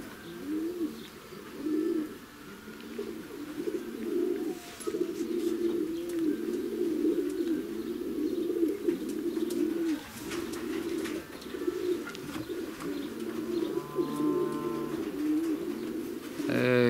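Racing pigeons coo continuously at a loft during the sixth race stage from Grudziądz, 427 km, a steady chorus of low repeated coos with scattered chirps and clicks, close and fairly loud throughout.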